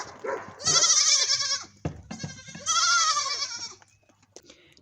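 Goats bleating on a homestead: two long, loud, wavering bleats close by, separated by a short pause and some softer animal noises, then fading to quiet.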